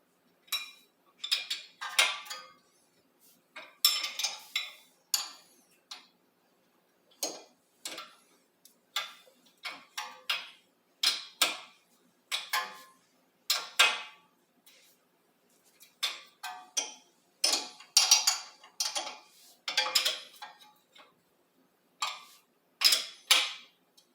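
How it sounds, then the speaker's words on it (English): A wrench ratchets on the 18mm nut of a brake rotor bolt on a 2018 Hyundai Elantra, a long run of close, sharp mechanical ticks and clicks in uneven bursts with short pauses. "use this wrench and turn clockwise"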